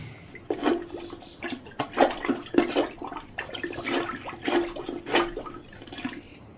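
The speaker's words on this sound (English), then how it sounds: "Let me just get my plunger." Plunger working a clogged toilet, a series of rhythmic wet gurgles, sucks and splashes repeating about once a second, close and fairly loud with no talk.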